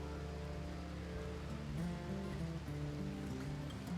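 Rain falls in a steady hiss beneath a soft, sustained musical drone, distant and even, with no voices, in the video game RimWorld.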